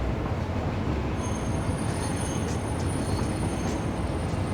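Train pulling out of a station in a video game, a steady rumble of wheels on rails with faint high squeals rising now and then, continuous and fairly loud with no talking.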